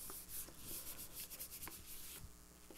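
Hand rubbing over a patterned design, a steady dry scraping friction with short strokes and a few sharper ticks, close and continuous with no talk.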